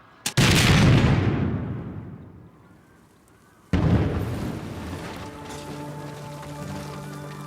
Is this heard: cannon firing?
yes